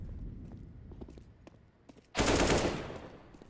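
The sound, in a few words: AK rifle gunfire in video game Counter-Strike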